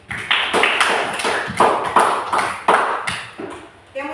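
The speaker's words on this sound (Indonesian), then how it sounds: "Tepuk tangan untuk Putri." A small classroom group claps for a student, producing a series of sharp, loosely timed claps that come in bursts of roughly two per second and fade near the end, close and fairly loud.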